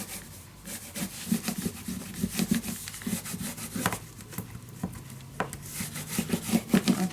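Paper for a boxed mini album is burnished down by hand with a tool, producing close, soft, uneven rubbing strokes with small scraping taps across a craft table.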